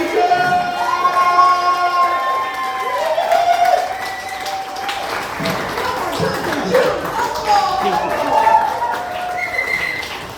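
At a comedy show, the audience claps and cheers for a comedian named Serena. The applause is lively and ongoing, with whoops and tonal calls rising over the hall noise.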